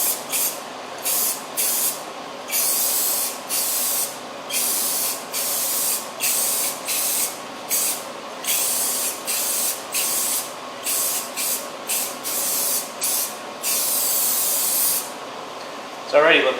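Aerosol spray paint on a Mercedes SLK55 AMG spoiler being repainted, a series of loud hissing bursts of a second or two each with short gaps between them, close by and with no talk.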